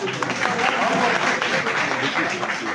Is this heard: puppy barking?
no